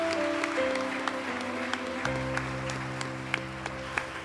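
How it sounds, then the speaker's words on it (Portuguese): Church congregation at an evening worship service claps along in a regular beat over sustained keyboard or organ tones, quiet and somewhat distant, with no speech. "que as palmas louvem ao Senhor essa noite"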